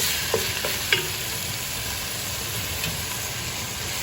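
Ground pork browning in a pan for an old-world Italian meat sauce, a steady broad sizzle throughout with a few faint utensil taps early on, no talking.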